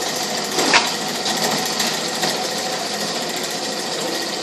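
Homemade wood lathe built for big bowl turning, spinning with nothing mounted, a continuous rattling mechanical whir at steady speed, close and fairly loud, with no talk.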